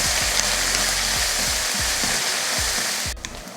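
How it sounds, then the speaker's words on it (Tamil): Onions sauté in a pan for chicken gravy with a loud, hissing sizzle and regular low thumps from stirring, until the sound drops off abruptly just before the end. "வெங்காயத்தை நல்லா வதக்கிடுவோம்"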